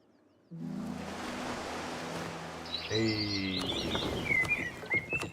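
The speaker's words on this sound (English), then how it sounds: "birds chirping" Recorded forest ambience begins with a sudden wash of steady broadband noise; after a few seconds, bright birds chirp and tweet in quick, scattered calls over the continuous hiss.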